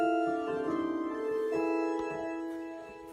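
A 4-foot stop on an electronic organ sounding alone, a short run of held notes shifting pitch, even and close, fading slightly at the end.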